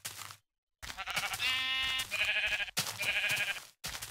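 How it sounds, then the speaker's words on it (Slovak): A sheep bleating in the video game Minecraft, a few long wavering bleats close up, separated by short silent gaps. "Ovečka, poď ku mne, ja ti nič nespravím."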